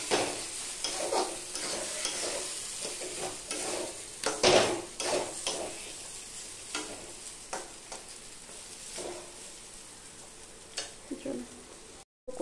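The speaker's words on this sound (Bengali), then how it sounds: "কচুর ফুল আর চিংড়ি রান্নাটা একদম প্রায় কমপ্লিট হয়ে যাওয়ার মতো হয়েছে" Taro flowers and shrimp frying in a pan while being stirred, a constant sizzle with repeated scraping and clinking of the spatula against the pan, close up, with a voice faintly present.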